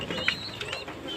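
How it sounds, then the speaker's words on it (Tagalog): An escaped pet pigeon belonging to a pigeon fancier gives a faint, brief coo with a soft flutter of wings, heard alone at a quiet distance. "Ito yung ibon kong nakawala."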